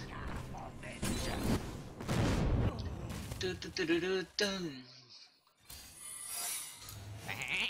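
A sheep bleats in a video game duel between two mage decks, a short nasal cry rising over loud game effects and people talking.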